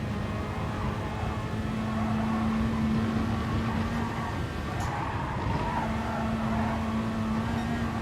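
Peugeot RCZ race car in the GT Sport video game, a sustained engine drone with a steady tonal hum and some tire noise, heard alone without talk.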